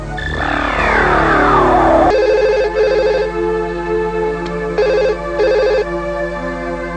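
A telephone rings loudly in repeated bursts, with a sweeping electronic tone at the start and steady background music underneath.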